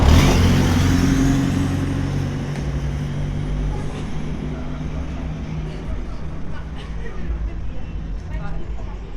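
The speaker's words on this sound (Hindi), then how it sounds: "गाड़ियाँ भी आती जा रही हैं," Road traffic rolls past outside a Catholic church in Christian Colony, Prem Nagar, on a night street, a broad steady rumble of cars with one louder pass at the start, under a murmur of people nearby.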